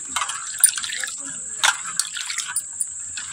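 Chana dal being rinsed and rubbed by hand in clean water, with close splashing and dripping sounds in short bursts.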